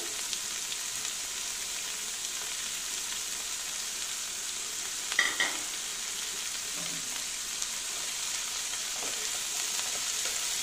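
Thinly sliced snake gourd frying in a pan, a steady soft sizzle with an occasional scrape and clink of stirring, close and fairly quiet, with no talking.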